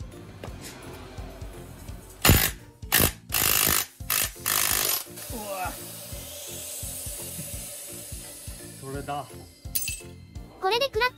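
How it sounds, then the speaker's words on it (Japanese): An impact wrench loosens a large, tightly torqued nut on a Vespa GTS250ie scooter in several short, loud rattling bursts, with quieter tool clinks and a speaking voice around them. "すごいトルクで締まってるんでインパクトをお借りしました。"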